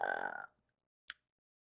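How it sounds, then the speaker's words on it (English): A person speaks briefly, then after a short pause lets out a single quick, close burp. "Every time I burp in a reading, it's a confirmation."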